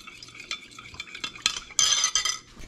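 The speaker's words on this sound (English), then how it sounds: "I'm going to give that a good stir so it's dissolved." A utensil stirs salt brine in a jar of fermenting hot sauce, giving a run of scraping, clinking strokes that grow louder and busier toward the end, close up with no voices.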